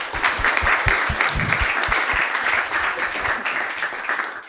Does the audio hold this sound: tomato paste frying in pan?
no